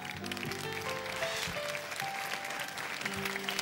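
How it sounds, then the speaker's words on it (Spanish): Audience clapping for a married couple at a televised tribute event, steady applause mixed with musical tones playing underneath and over it for a few seconds. "del matrimonio Rodríguez, Huerapil, fuerte el aplauso para ellos"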